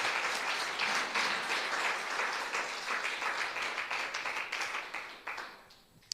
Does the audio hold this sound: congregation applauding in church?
yes